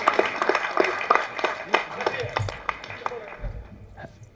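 An audience claps to welcome director K. S. Ravikumar at a film audio and trailer launch, a moderate scattered round of hand claps that thins out toward the end, heard under a person speaking over a microphone.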